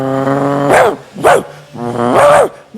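A voice imitates an angry dog, giving three loud, growling barks with pauses between them and no other sounds around them.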